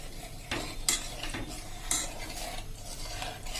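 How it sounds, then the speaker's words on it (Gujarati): Cream being stirred over full flame in a pressure cooker to make ghee, with a utensil scraping and tapping the metal pot in irregular strokes over a faint sizzle and no voices. "હવે આપણે ફૂલ ફ્લેમ ઉપર કન્ટિન્યુ હલાવતા રહેશું"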